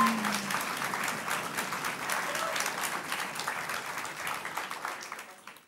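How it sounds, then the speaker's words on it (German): A talk show audience gives the evening's hosts a sustained, rousing burst of applause, dense clapping holding steady throughout before thinning out at the very end. "Bitte begrüßt mit einem tobenden Applaus die Moderatoren des heutigen Abends"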